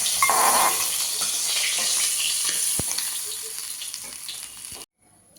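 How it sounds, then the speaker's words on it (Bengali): Hilsa fish heads frying in oil in a home kitchen, a loud continuous bright sizzle that fades slightly before cutting off abruptly near the end, with no voices. "ইলিশ মাছের মাথাগুলো ভাজা হয়ে গেছে, তুলে নেব।"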